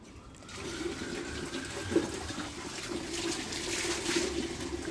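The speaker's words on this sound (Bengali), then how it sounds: "কলটা চালিয়ে দাও" Tap water runs steadily while a Labrador is being bathed, a soft continuous splashing stream at moderate distance with no talk over it.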